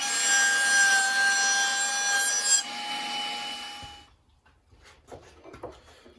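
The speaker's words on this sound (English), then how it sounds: "we will take and cut us in a 1/4 inch notch here in the bottom to put the bottom piece in" A saw cuts a quarter-inch notch in walnut for a jewelry box bottom, a loud, steady close rasping that shifts tone partway through and then stops, followed by quieter clattering and handling noises.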